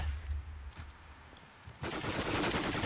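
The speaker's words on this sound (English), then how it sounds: "I'm coming with my AK-47" AK-47 gunfire in the Minecraft shooter game Minestrike comes as a dense burst of rapid automatic shots. The burst starts partway in after a quieter stretch and rattles on steadily to the end.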